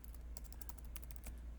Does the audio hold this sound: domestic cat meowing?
no